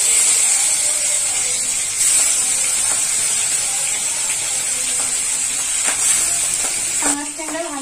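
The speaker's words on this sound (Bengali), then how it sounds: "তেল গরম হয়ে গেছে, মাছ দিয়ে দিব।" Pangas river fish frying in hot mustard oil, giving a steady, loud sizzle that hisses continuously. A few faint clinks and a short bubbling burst come near the end.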